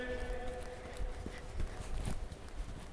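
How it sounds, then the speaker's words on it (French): Horse hooves clopping at a walk during a riding lesson in an arena, a soft irregular beat of several muffled steps heard at moderate distance over a steady low background hum. "maintenant ce cheval commence à avancer droit et à se porter en avant"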